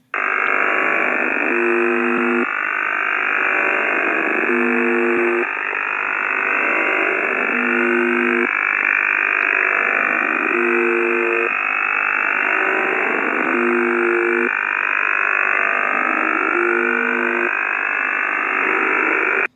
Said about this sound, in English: So you can hear like that steady buzzing noise, and then you can hear the intermittent buzzing noise.